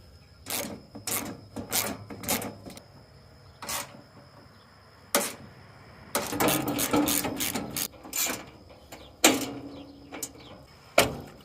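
Clicks and ratcheting clatter from a wrench working a small nut between hydraulic lines on a Ford 4500 backhoe, coming in short bursts with pauses, close by and moderately loud, with no talking.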